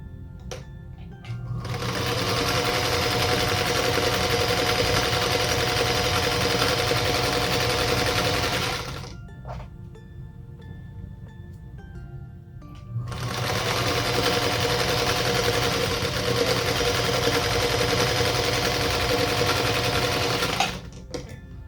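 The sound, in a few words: sewing machine stitching a quilt block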